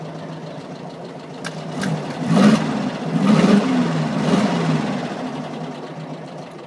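A Volkswagen Baja Bug engine runs steadily at a low rumble while the gearbox is shifted through neutral, first and second, with a couple of slight rises in engine note and some mechanical clunks.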